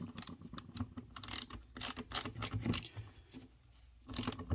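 A bolt is tightened on a Ryobi 18V 8-inch pole saw, giving close, intermittent bursts of ratcheting clicks and metallic mechanism rattles separated by short quiet gaps.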